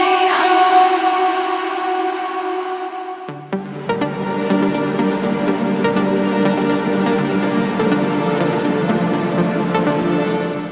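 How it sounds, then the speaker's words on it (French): A synthesizer chord plays alone and then shifts to a lower, denser sustained chord, with a long reverb effect smearing the notes into a washy, echoing tail. "la reverb, ça te permet aussi de créer des effets artistiques qui sont complètement déments"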